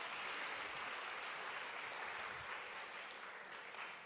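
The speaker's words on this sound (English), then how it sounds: "Please, a round of applause." An audience applauds at the Baltic Sea and Latvian Tourism Forum, a continuous, fairly faint wash of clapping heard from a distance that holds steady and fades slightly toward the end.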